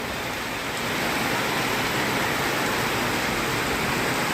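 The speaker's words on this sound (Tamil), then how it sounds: "நல்லா ஜோராக மழை" Heavy rain pours down on a rainy morning, a dense, steady roar of rainfall that holds at an even loudness throughout, with no voices.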